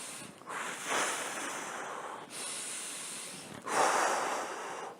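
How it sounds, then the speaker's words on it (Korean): Heavy breaths drawn in and pushed out through the nose during a group breathing exercise at a lecture, three long airy rushes with rising and falling force, close and loud with no talking. "크게 코로 나한테 들리게 들이마시고 내쉬고"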